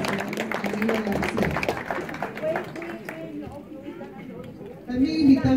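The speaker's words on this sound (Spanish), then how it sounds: "que se escuchen los aplausos" Applause from a crowd at the ribbon-cutting opening of a new sanitary facility, a brisk patter of clapping under someone speaking into an amplified microphone, ending as his voice grows louder.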